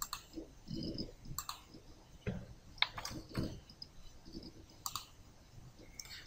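Mouse clicks while stepping through a VirtualBox setup for installing Windows 10 in a virtual machine, a scattering of sharp, quiet clicks spaced irregularly, heard close with low background noise and no talking.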